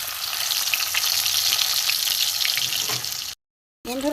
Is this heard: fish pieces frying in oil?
yes